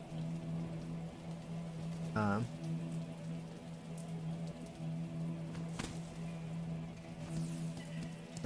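Steady, soft rain in the rainy Greymoor area of Hollow Knight: Silksong, falling continuously over a low ambient hum with a brief swell partway through.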